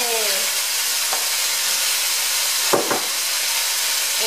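Chopped onion added to browning meat in a chili pan, a steady close sizzle and hiss throughout, broken by a couple of brief clicks or scrapes, with no talk.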